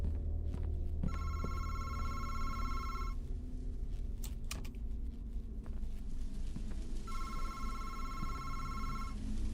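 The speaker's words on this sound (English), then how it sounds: "is the phone ringing to tell me I'm dumb?" A telephone rings inside the horror video game MADiSON, two bursts of bright electronic ringing about four seconds apart over a dark, rumbling ambient background.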